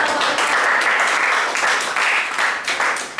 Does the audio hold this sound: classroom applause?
yes